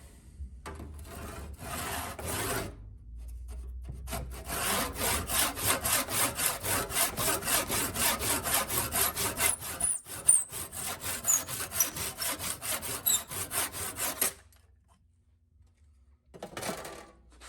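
A hand saw cuts through wood for a dowel wedge with rapid, rhythmic rasping strokes that run for over ten seconds close by, then stop, followed by a brief final scrape.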